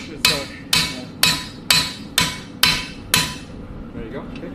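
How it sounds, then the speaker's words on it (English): Hot steel is hammered while forging a sword: seven loud, evenly spaced metallic strikes about half a second apart, each ringing briefly, then a quieter tail with faint background sound. "Hammer like that."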